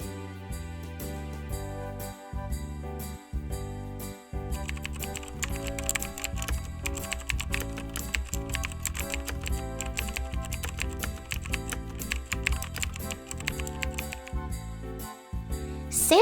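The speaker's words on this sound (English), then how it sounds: "typing orders for the toys" Fast, steady typing on a computer keyboard, a dense run of crisp clicking keystrokes with short pauses, close and clear, with faint jingling tones mixed in and no talking.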